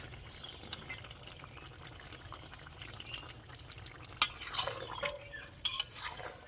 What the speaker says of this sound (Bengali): মাছের সাথে ভালো করে আমি মিশিয়ে দেবো তরকারিটা।